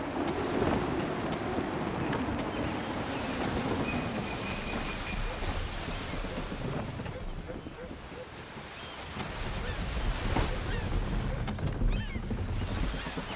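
A sailing ship under full sail in Assassin's Creed III, with steady wind rush and waves washing against the hull, a fairly loud constant roar, and game voices calling out over it.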